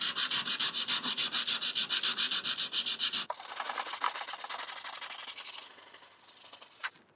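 Hand sanding across the veneer of a Victorian sideboard: quick, even rhythmic rasping strokes, close and clear, then a softer continuous rubbing with a few faint knocks.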